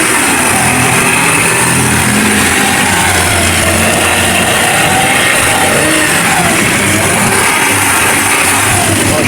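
A Toyota Wigo's engine runs at a constant pace during preventive maintenance at a Shell service station. The steady, loud mechanical hum has no revving swings and no voices for the whole stretch.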